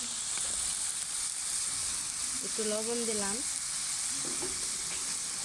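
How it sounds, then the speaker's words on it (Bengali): Potatoes frying in a pan, with a soft, continuous hiss of oil throughout, while a person speaks briefly over the sizzle. "এদিকে আলুটা ভাজা হোক"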